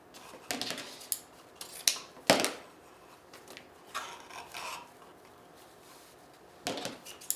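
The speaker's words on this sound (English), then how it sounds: "I'm going to start out by cutting 9 strips of each ribbon to start with." Scissors snip through strips of ribbon for an Easter bunny wreath, giving a series of sharp, close cuts and rustles in irregular bursts with quiet pauses between, and no talking.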